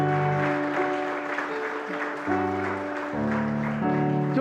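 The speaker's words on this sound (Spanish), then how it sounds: "dale un aplauso a Él si quieres" A church congregation applauds steadily, with a dense wash of clapping and a sustained musical chord underneath, continuous and fairly loud throughout.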